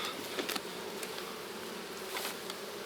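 Honey bees buzz around an open hive during a honey harvest, a faint, steady insect drone with no talking.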